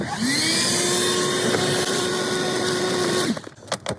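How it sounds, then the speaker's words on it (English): A DeWalt vacuum cleaner hoovering out a car during a service runs as a loud, steady, close whine for about three seconds, then cuts off into a few clunks and rustles. "I'll just give that a little hoover out, I think."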